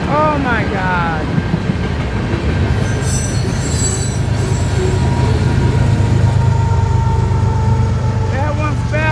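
A westbound freight train passes close by, rumbling loudly with steady wheel noise and shrill squeals of wheels on the rails, while people chatter excitedly throughout.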